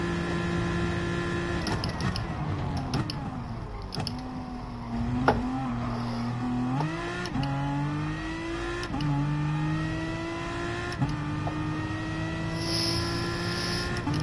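Engine of an AMG race car in a racing video game, a steady loud drone with rising and falling pitch as it accelerates and shifts through a time trial lap, continuous with no talk.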